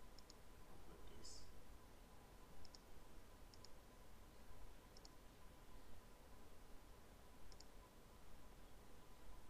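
Computer mouse clicking at a desk while editing a PDF form, five or six faint, sharp clicks spaced irregularly over a low background hiss.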